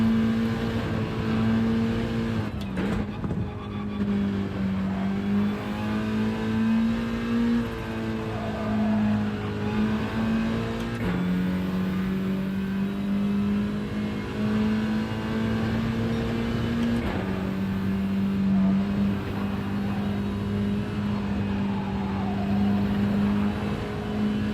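A Subaru WRX race car engine in a video game drones steadily, holding a high tonal pitch with small shifts as it cruises and eases off, loud and continuous with no talk.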